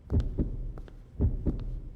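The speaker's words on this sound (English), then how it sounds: "Damn, the heartbeat is like loud in my ears." Heartbeat sound effect from the horror game Death Mark 2, heavy low double thumps repeating steadily, loud and close with no talk over it.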